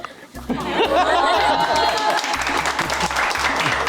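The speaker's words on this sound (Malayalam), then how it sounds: "ഈ കയ്യടി മൊത്തം ഷിഫാനയ്ക്കുള്ളതാണ്" A studio audience bursts into loud, sustained clapping that fills the room, with voices and chatter mixed in under it.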